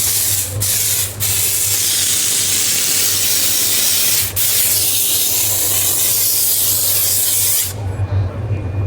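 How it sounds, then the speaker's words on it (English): A loud, steady hiss of steam spraying from a steamer, continuous for several seconds with a few brief dips before cutting off near the end. "Now the steam's gonna come out just a little bit more wetter."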